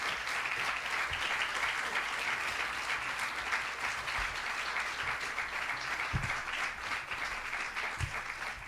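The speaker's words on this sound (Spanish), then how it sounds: "solicito fuertes aplausos de despedida" Sustained farewell applause from a lecture audience, dense steady clapping at moderate level continuing throughout with a few sharper individual claps standing out.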